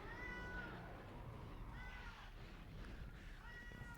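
Rathalos, a monster in Monster Hunter on PlayStation 2, gives repeated high, cat-like meowing calls in three separate bursts over steady game noise, faint and somewhat distant.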